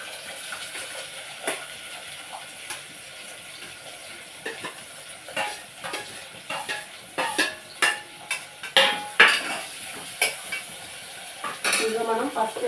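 Onions and green chilies go into hot oil with spices such as bay leaves and cinnamon for a chana dal keema curry: soft sizzling under repeated scraping and clinking of a spoon against the pan.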